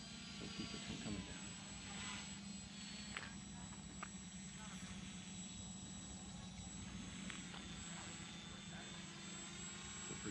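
H-King paramotor engine on a maiden flight, a steady loud droning buzz running throughout, with people talking over it.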